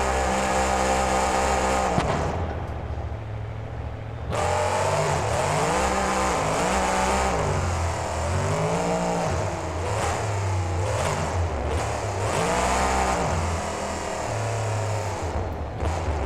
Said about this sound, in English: Some reverse donuts by Thunderbolt now.